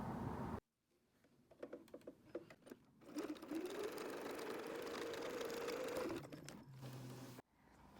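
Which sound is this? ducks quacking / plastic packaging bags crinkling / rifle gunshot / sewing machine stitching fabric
sewing machine stitching fabric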